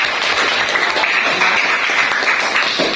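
Applause from a classroom of students during a human digestion lesson, a dense steady patter of clapping lasting throughout, fairly close and loud, with some faint voices mixed in.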